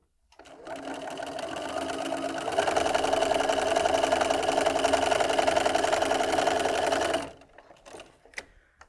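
A sewing machine runs steadily, stitching a seam on a friendship braid quilt block. The whirring hum stays loud and continuous for about seven seconds, growing a little louder partway through, and then stops.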